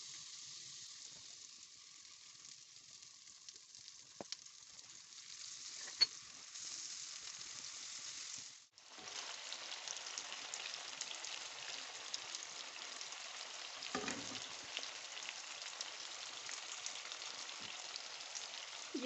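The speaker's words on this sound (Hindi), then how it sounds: "इसमें मैं ये मक्खन जो है ये डालूंगी" Butter melting and sizzling in a hot pan while cooking chicken malai boti, a faint steady hiss and crackle with a few small pops and a brief clatter midway, quiet and close.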